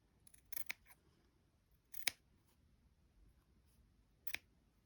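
Scissors trimming fabric for a scrappy bird project, heard as a few quiet, separate snips spaced a second or two apart over a soft, near-silent room background.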